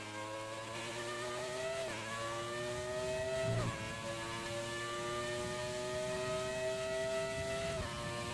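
An F1 car engine in the F1 2020 racing game screams loudly and continuously at high revs, with quick dips at gear shifts, heard alone without talk.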